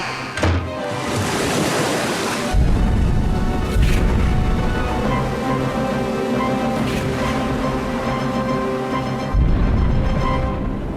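Ocean waves surging and crashing as a sound effect of the sea flooding into a house, a loud continuous roar of surf with swelling bursts and windy rush, no voices.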